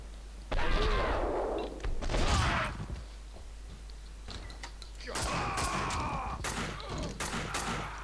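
Sharp bursts of gunfire in the video game Max Payne 2 crack in quick clusters, some single shots and some rapid volleys, with synthetic game-like punch and gaps between.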